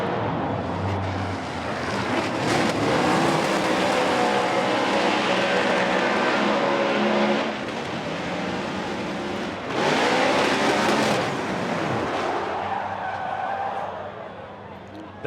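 Formula Drift car on a 2022 championship run, its engine revving hard and its tires skidding and screeching continuously for the length of the run, with crowd and commentary noise underneath.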